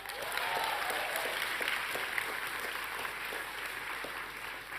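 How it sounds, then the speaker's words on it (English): Sustained applause from an audience at a university fellowship convocation fills the hall, a dense, even wash of clapping that holds steady throughout without voices standing out. "A bigger round of applause to the members of the YIF program team."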